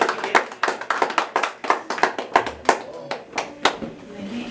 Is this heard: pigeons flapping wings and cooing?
no